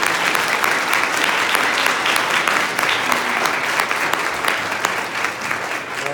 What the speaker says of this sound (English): Okay, a round of applause.